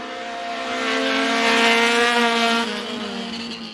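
Race cars in a heat race at Bakersfield Speedway roar past at full throttle, a loud sustained engine drone that swells to a peak midway and then eases off slightly, with no talk.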